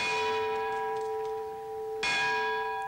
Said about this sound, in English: the 18th century Lloyds lutine bell, most well known for its ceremonial one ring when a vessel is lost at sea